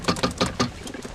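Pigeons cooing in a war-film scene, four soft rounded coos in a steady rhythm close by, then a quieter trailing call, with no talk over them.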